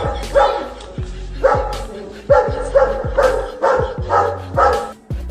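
A dog's barks are looped into a dance tune: about six loud, evenly spaced barks ride over a steady low beat, forming a bouncy rhythmic pattern.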